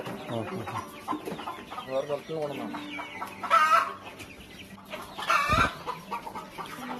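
Native chickens kept on a small farm cluck repeatedly nearby, with a couple of louder, sharper calls rising above the flock's steady chatter and people talking softly in the background.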